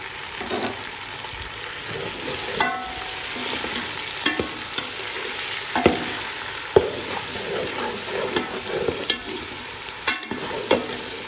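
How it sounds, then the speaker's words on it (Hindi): Chicken fries with ginger garlic paste in a pan for a chicken and pumpkin curry, a steady sizzle broken by frequent scraping stirs and clinks of the spoon, close and continuous. "अब इसमें मैं ऐड करने लगा हूँ अदरक लहसुन का पेस्ट।"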